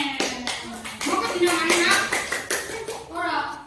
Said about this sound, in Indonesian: Tepuk tangan untuk Mbak Mel.